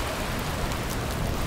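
Steady rain falls in an audio drama scene, a dense continuous patter of drops on a surface, moderately loud and alone with no voices.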